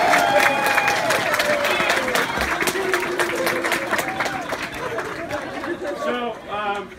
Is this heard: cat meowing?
no